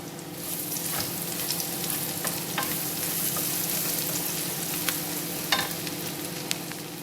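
Garlic frying in a pan, a constant crackling sizzle up close with scattered sharp pops and a few utensil clicks, no voices.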